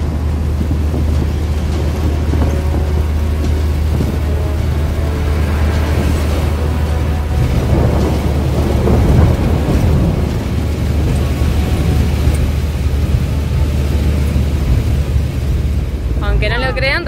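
Thunderstorm with heavy rain around a parked Kombi van on a road trip out of Caracas: constant dense rain hiss with low rumbling thunder and a steady low hum running underneath.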